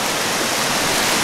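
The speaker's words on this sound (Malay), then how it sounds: "Nampak tu, air terjun tu cantik kan." A forest waterfall pours in a steady, dense roar of rushing water, loud and unbroken throughout, with no voices over it.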